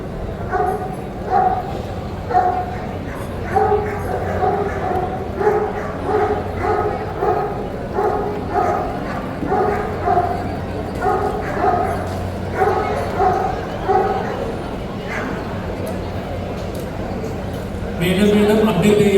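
Dogs bark in repeated bursts throughout at a dog show in Trivandrum, the barks coming from several animals at middle distance over steady crowd murmur and loudspeaker announcements.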